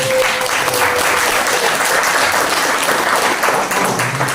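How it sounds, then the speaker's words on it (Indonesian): A university lecture audience applauds Mas Amin at a student practitioner session, filling the room with loud, continuous clapping that stays dense and steady from start to finish. "Tepuk tangan untuk Mas Amin"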